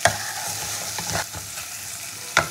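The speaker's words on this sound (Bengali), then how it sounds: "খুব ভালো করে মশলাটাকে কষিয়ে নিতে হবে" Spice masala for bhola fish kosa sautés in a pan with a steady close sizzle, broken by scraping stirs near the middle and a sharper clatter toward the end.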